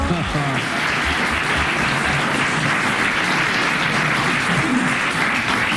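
Studio audience clapping on a French radio panel game show, a dense sustained burst of applause at moderate loudness with some voices mixed underneath.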